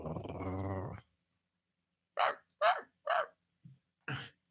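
A voice imitating a dog growling, one sustained low growl followed by several short separate growly bursts with silent gaps between them.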